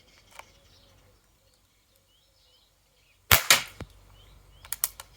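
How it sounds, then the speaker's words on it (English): A CO2-powered airgun fires a pellet with a sharp, loud muzzle report cracking once after a quiet stretch, then two fainter clicks follow near the end. "Muzzle report's back."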